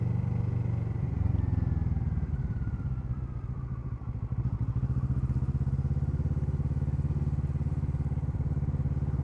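A Kawasaki Z650 motorcycle fitted with an Akrapovic exhaust growls close by, its engine note rising in a rev then settling into a steady, throbbing idle burble.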